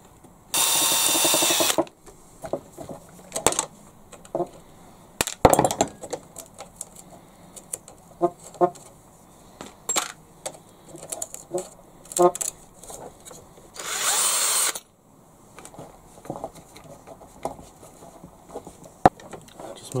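An electric drill boring holes during a model low loader truck conversion, with two loud bursts of whirring motor set apart by quieter clicks, taps and handling of small parts close by.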